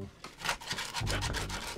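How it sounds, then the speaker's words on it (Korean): Sandpaper rubbed over a puttied seam on a face-shaped mould, a rapid series of rhythmic scratchy strokes, close and fairly loud, with no voices. "사포로 다듬어줍니다"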